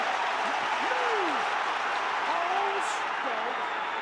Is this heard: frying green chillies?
no